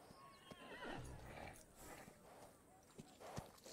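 A mustang stallion in an animated film neighs and whinnies in loud, shrill bursts mixed with clip-clopping hooves and a few sharp knocks, close and energetic throughout.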